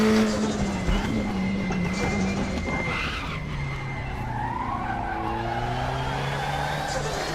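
A Volvo 240 racing in the video game DDF Racer gives a loud sustained engine note with prolonged tire squeal and skidding, pitch sweeping as it corners and accelerates, with no talk.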